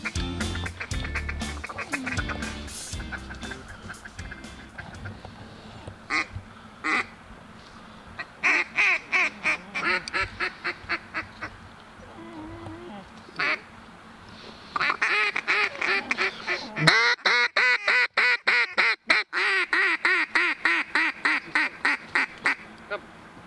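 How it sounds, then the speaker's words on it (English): Wild ducks quack and honk during a river duck hunt on the Willamette River, with rapid, repeated calls in bursts over outdoor background noise and occasional faint talk. "Finally, we got one lonely duck that was flying really low to work into our decoys."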